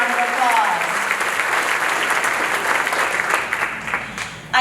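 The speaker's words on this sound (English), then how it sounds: "big round of applause." A large room of Republican club members bursts into sustained applause, a dense wash of clapping that holds steady throughout and tapers slightly near the end, with a faint voice at the start.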